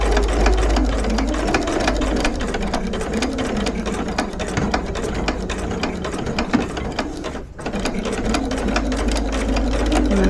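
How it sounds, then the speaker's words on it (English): A sewing machine, fitted with a regular or walking foot, stitches steadily along a bag seam, its rapid needle clatter running close and loud almost without pause, with only a brief dip near the end. "And then I'm just gonna sew all the way."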